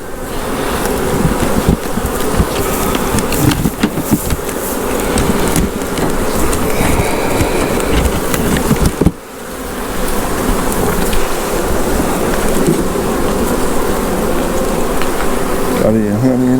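Honey bees buzzing densely around a frame of honey during a hive split, a loud, continuous close-up drone with crackly handling noise and a brief dip partway through before the swarm sound resumes.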